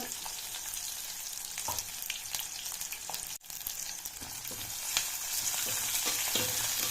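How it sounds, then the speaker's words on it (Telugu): Onion and cashew nuts frying in hot oil for chicken biryani, a steady dense sizzle with scattered crackles and occasional stirring scrapes, close and continuous with no talking. "ఉల్లిపాయ బాగా ఎర్రగా ఫ్రై చేసుకోవాలి"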